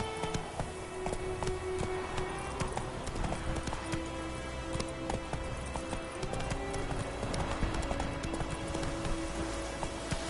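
Hooves of the horse Roach clip-clop steadily on the ground in The Witcher 3 game, a rhythmic trotting beat under ambient game sound, with a brief whinny-like note and faint speech.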